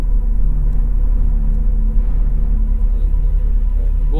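Wind buffets the microphone outdoors on a Kolyma mountain hunt, a steady low rumble that fills the whole stretch without letting up.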